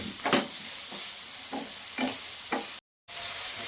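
Paneer and capsicum curry frying in a pan, a steady sizzle with a few scraping stirs at intervals, close and moderately loud, no voices.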